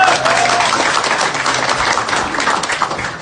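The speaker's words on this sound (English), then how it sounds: "Round of applause" Loud, close audience applause at an anniversary gathering, a dense continuous roar of clapping that holds steady and eases slightly at the end.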